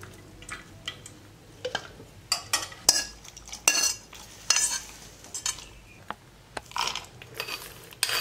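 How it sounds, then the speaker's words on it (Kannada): Peanuts being roasted and stirred in a pan for banana flower chutney, with irregular metallic scrapes, clinks and rattles from a spoon against the pan, close and fairly quiet, with no speech. "ಇವಾಗ ಒಂದು ಸ್ವಲ್ಪ ಕಡಲೆಕಾಯಿ ಬೀಜನ ಹುರ್ಕೊಳ್ಳೋಣ"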